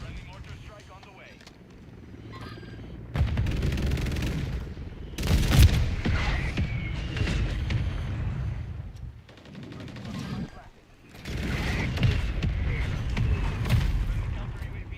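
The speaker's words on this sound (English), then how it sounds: "Friendly mortar strike on the way" In Call of Duty Modern Warfare III, a mortar strike lands as dense booming explosions mixed with rapid gunfire, coming in loud bursts with short lulls between them, while game announcer voices and player talk run underneath.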